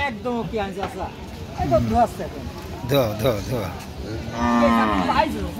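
Cattle at a village cattle market moo loudly and repeatedly at close range, with several long drawn-out calls overlapping amid crowd murmur and nearby speech.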